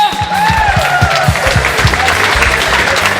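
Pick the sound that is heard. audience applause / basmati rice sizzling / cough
audience applause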